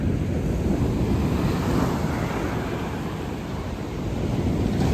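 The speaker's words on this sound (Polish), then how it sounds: "I co któraś fala to podchodzi naprawdę daleko ta woda." Storm waves surge up a beach in a continuous loud roar of surf mixed with wind buffeting the microphone, with no voices.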